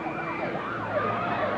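A police car siren from a ROCAM patrol vehicle wails loud and close, its pitch rising and falling continuously through a busy street scene in Brazil during a 1993 concert tour.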